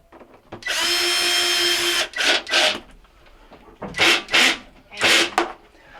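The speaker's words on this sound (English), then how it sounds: "you're going to reattach your screws. And they are 1/4 inch nut drivers again." A power driver with a 1/4 inch nut driver bit fastens screws on a Maytag washer, one long close whirring run followed by several short bursts with brief pauses between.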